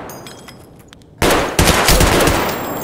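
Burst of loud automatic gunfire erupts after a quieter stretch of low rumbling, firing continuously with sharp shots and a second surge, during a close-quarters fight in a hallway.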